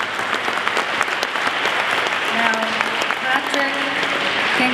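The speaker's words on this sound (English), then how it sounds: "So would you please give them a round of applause?" Gala audience applauds, a close, loud crackle of many hands clapping continuously, with faint voices and a few tonal murmurs under the clapping throughout.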